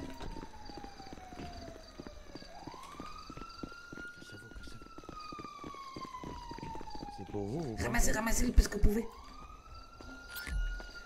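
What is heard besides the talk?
police siren in a video game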